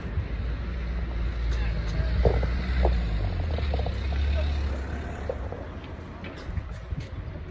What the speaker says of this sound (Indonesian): Dan suasana ini di daerah bus station.